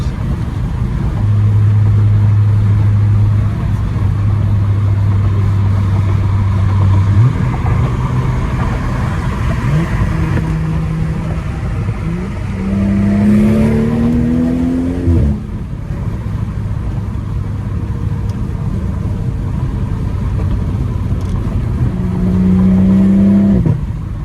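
A BMW 540i engine with a loud, raspy catless exhaust idles and revs up several times, rising and falling in pitch, close by.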